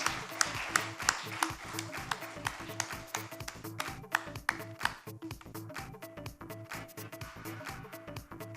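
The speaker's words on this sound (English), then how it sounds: "Can we have a huge round of applause for Tamil Nadu" Applause at an awards ceremony for Tamil Nadu's award, crisp clapping with sharp individual claps at first, thinning under a steady background of music throughout.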